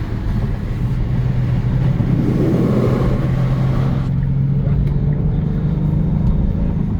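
A steady, throaty 2024 Genesis G70 engine drone in Sport Plus mode hums evenly throughout, loud and close, with a constant low tone and no talking.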